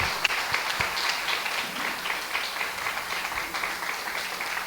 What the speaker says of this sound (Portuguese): Eu quero que você dê um aplauso bem forte ao Senhor